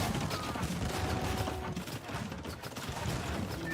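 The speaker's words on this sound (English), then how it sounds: "These castles are firing." Castles open fire in Age of Empires II, a dense, continuous clatter of overlapping shots and impacts rattling steadily through the battle without pause.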